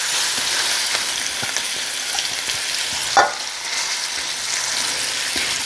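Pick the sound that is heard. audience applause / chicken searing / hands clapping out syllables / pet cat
chicken searing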